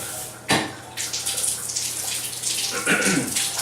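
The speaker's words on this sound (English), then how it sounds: "for the water you basically turn this on and you pull this up, and that's how the water comes on" A bathroom tap in a house is turned on and water gushes steadily into a basin or tub, loud and close, with a click at the start.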